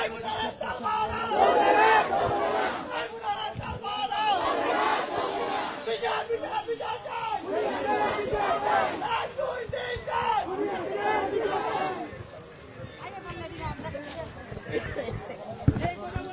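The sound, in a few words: protest procession crowd chanting demanding trial of Awami League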